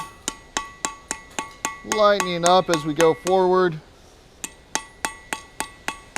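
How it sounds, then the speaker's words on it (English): A blacksmith's hammer strikes hot steel on an anvil in a steady ringing rhythm while forging a taper, each blow a sharp metallic clang, pausing briefly while someone talks, then resuming. "Heavier hammer blows in the back."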